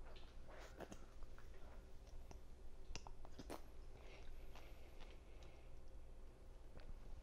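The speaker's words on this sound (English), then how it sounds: "give it a couple of chews, and then swallow" A raw oyster is chewed close up, with a series of faint, irregular wet clicks and soft crunches over quiet background noise.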